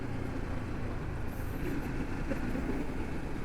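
Motorcycle riding on the road toward the port, a steady engine drone and wind rumble throughout with no clear changes in pace.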